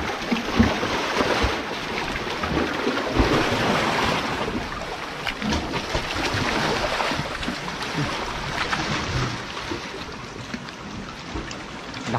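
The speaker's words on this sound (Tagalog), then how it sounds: "Lakas ng hampas ng alon mga kalahi." Strong ocean waves surge and crash continuously against the shore, a dense, loud roar of rushing water with no pauses.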